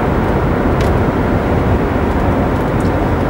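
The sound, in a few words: Mercedes-Benz CLK 430 V8 accelerating on kickdown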